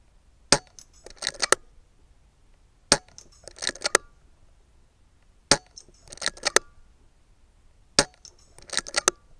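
A rifle fired at flippy metal targets: four separate shots spaced a few seconds apart, each a sharp crack followed by a quick run of metallic clinks and rattles, with quiet between and no talk.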